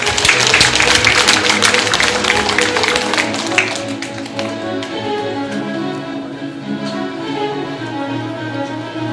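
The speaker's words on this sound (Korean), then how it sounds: "큰 박수 부탁드립니다" Audience applause at a book launch event: a burst of clapping that fades after about four seconds as soft music with sustained tones carries on underneath.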